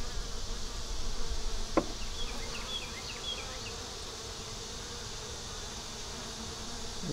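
Close, steady buzzing of many honeybees in a hive with brood and wax moth damage, a continuous drone with a single sharp tap early on.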